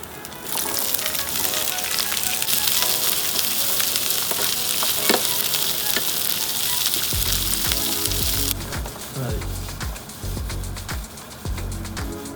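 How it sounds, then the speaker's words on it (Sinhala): Onion and capsicum fry in browned ginger garlic paste with a loud, dense, continuous sizzle, then a thumping, scraping stir of the pan breaks through near the end. "ginger garlic paste එක හොඳට brown color එකක් එන්න fry වෙලා තියෙන්නේ. ඒත් එක්කම අපි add කරගන්නවා onion and capsicum."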